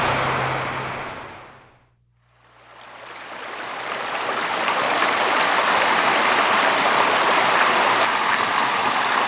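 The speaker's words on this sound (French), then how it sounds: "c'est le doux clapotis d'un cours d'eau qui me réveille, en plein désert d'Oman" A gently lapping stream in the Omani desert, a steady broadband wash of flowing water that fades out briefly then swells back to a constant, close rush.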